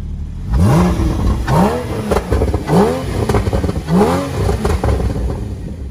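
A Porsche Cayman 981 GTS engine with its exhaust valves open, blipped in four or five sharp, loud revs that rise and fall quickly, heard close with no talking.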